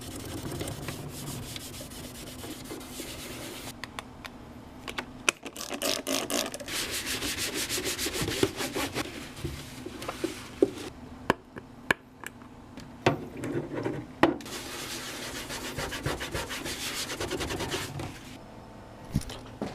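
A Nintendo game cartridge being scrubbed with a magic eraser, close rhythmic rubbing strokes in bursts, steady and fairly loud with no talk.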